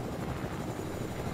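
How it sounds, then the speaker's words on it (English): A helicopter flies steadily in the Fortnite video game, a continuous broadband rotor and engine rumble that holds at an even, moderately loud level with no voices over it. "You can get them in a helicopter."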